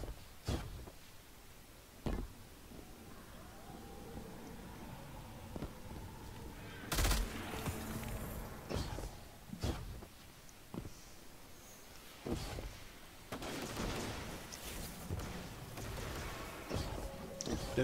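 Repeated bursts of gunfire from an exotic pulse rifle shooting security drones on the Moon in Destiny 2, with sharp volleys scattered through the stretch and game effects between them.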